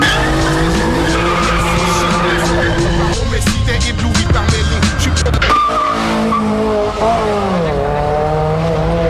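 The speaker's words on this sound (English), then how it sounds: "That's my girlfriend's car, she's over there. I'm thrashing it tonight." A car is driven hard with tires skidding and squealing in long, loud screeches, the engine revving between slides, while French rap vocals play over it.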